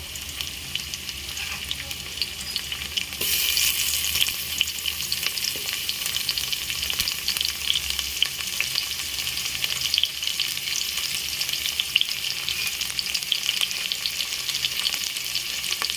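Tomatoes frying in a pan for leftover-rice vagharela bhat give a steady hissing sizzle that swells louder a few seconds in, with occasional faint scrapes of stirring beneath it.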